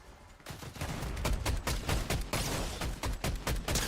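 Rapid bursts of gunfire from Fortnite, a dense fusillade of sharp repeated shots starting after a brief quiet moment and continuing loudly throughout.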